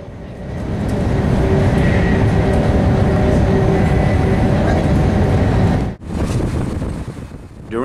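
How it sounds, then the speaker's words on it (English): High-speed train running between Beijing and Tianjin, a loud, continuous rushing roar with wind noise that briefly dips and cuts out near the end before resuming. "When traveling between Beijing and Tianjin, there is a super fast train which takes less than half an hour to complete this journey"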